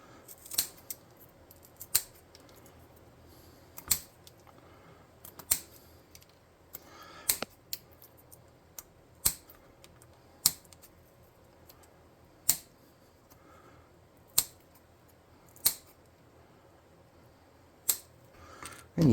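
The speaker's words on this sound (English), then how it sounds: "It might be easier with scissors." Sharp scissor snips cut through plastic model-kit sprues one at a time, spaced irregularly every second or two, close and crisp against a quiet room.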